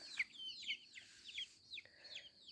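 Chickens cluck and chirp softly in short repeated calls, faint and a little distant, with no talking.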